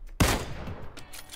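A loud single gunshot bursts out in the shooter game PUBG, followed by a quieter crackle of further shots and a short echoing tail, with no talking.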